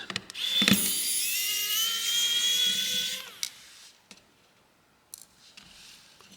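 Small screws being backed out of a FoxxD A65L tablet with a whining electric screwdriver during a teardown, a steady high whir for a few seconds followed by faint clicks and taps.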